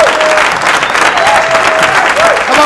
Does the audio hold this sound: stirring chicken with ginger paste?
no